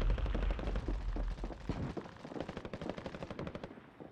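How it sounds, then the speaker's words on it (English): Rapid gunfire in the Warzone video game, a dense burst of shots that rattles loudly at first and then continues as quicker, lighter repeated shots. No one talks over it. "That shotgun fucking sucks."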